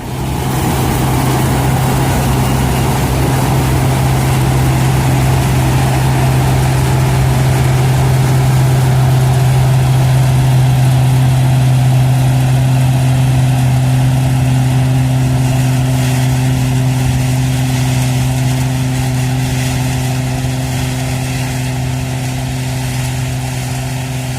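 A farm vehicle's engine drones loud and steady with a constant low hum during a 2023 Apollo soybean harvest while driving toward a combine to unload, close and unbroken throughout.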